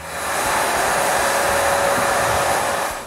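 A sprayer applying oil varnish to wooden boards in a workshop gives a steady, loud, close hiss that holds evenly for about three seconds, with no voices.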